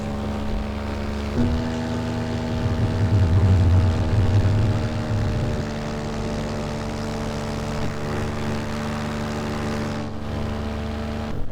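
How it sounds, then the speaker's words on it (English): A paramotor's electric-start engine runs steadily at low revs, its propeller drone and harmonic hum easing down toward idle, close and continuous with no talking. "Now on low revs, so it's going to go to idle in a minute."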